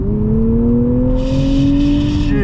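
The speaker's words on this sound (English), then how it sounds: "I love how loud this exhaust is." A loud 2023 Nissan Z sports car exhaust revving hard, the engine note climbing steadily before dropping off abruptly at the end.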